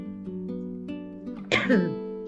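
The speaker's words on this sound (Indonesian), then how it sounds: "Maaf, ini batuk." A steady droning tone runs through, then a single sharp cough bursts out near the end, close and abrupt.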